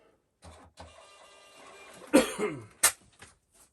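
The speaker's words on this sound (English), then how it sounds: "I wish there was a way that you can get a printer that would print the label without the backing." A label printer feeds out a shipping label for an eBay parcel, giving a few short mechanical whirring bursts with brief sharp clicks near the end, close and fairly quiet, with no talking.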